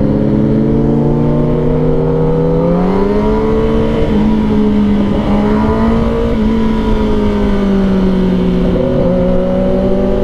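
A motorcycle engine revs hard and climbs through the gears, its pitch rising and dropping at each shift. The steady, loud engine drone runs for the whole stretch with no talk.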